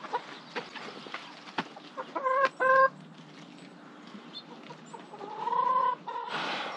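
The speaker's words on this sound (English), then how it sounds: "These are our laying chickens. So they're Rhode Island Reds" Rhode Island Red laying hens on a farm give scattered clucks and short nasal calls, with a louder burst of squawks in the middle and a drawn-out bawk near the end, fairly close with no talking.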